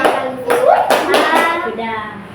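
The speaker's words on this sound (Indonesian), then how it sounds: "Tepuk tangan dulu semuanya." A short burst of hand clapping from children in a classroom, a few sharp claps rising over overlapping young voices.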